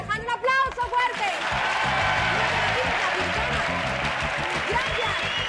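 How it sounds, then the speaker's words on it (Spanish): A studio audience at a 1992 Spanish television game show gives loud applause. A brief voice comes first, then dense, sustained clapping fills the rest. "¡Un aplauso fuerte!"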